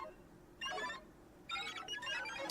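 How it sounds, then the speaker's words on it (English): Page-turn computer sound from a read-along Tron storybook record: two bursts of bright, warbling electronic chirps, a short one and then a longer one, each rising out of near silence. "know it is time to turn the page when you hear the computer sound like this"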